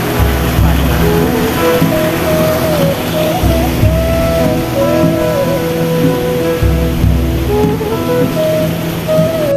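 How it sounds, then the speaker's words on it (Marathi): A waterfall and stream behind an old hilltop temple: loud, steady rushing water fills the whole stretch, with faint tonal sounds layered over it. "आणि याच्या मागच्या साईडला सुंदर असा धबधबा आणि सर आहे"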